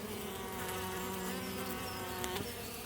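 Honey bees after winter crowding five hive frames, a dense steady buzzing drone heard up close without pause.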